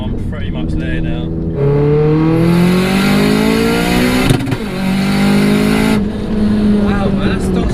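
A tuned 544 bhp Audi S3 revs hard close by, its engine note climbing steeply in repeated rising sweeps with a brief drop between pulls, loud and dominant throughout.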